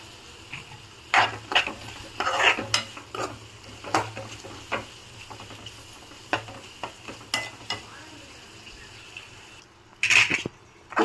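Carrots seasoned with turmeric and salt fry in a pan with a soft sizzle, while a utensil stirs and scrapes against the pan in irregular clinks and knocks, close up and without voices.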